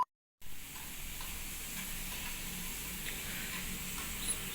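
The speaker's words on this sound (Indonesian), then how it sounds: "Suami lagi bantuin goreng kerupuk." Shrimp crackers (kerupuk udang from Sungsang) fry in hot oil with a steady, close sizzling hiss that runs unbroken through the clip after a brief silent start.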